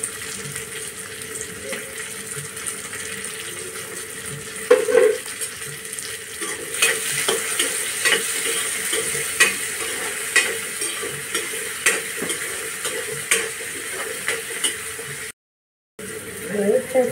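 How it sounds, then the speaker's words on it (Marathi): Tomatoes go into a hot frying pan for a dried prawn and brinjal curry, sizzling steadily while a utensil stirs and scrapes in irregular strokes, someone talking over the cooking. "आता मी टोमॅटो टाकते।"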